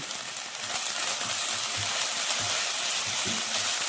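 Green chillies, curry leaves and turmeric frying in oil for a coconut-milk chicken curry, a bright continuous sizzle with soft rhythmic stirring knocks, close and without talk.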